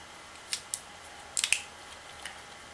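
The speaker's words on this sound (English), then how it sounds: "these scissors are very convenient to use, even cutting nylon wire ties" A Leatherman Charge AL multitool's small scissors make a handful of crisp, quiet snips, two single cuts followed by a quick cluster and one more, close up against a hushed background.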